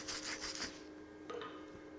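A flux core weld joining thick metal to thin gets scrubbed clean, with several quick rasping rub strokes up close followed by quieter scraping, no talk.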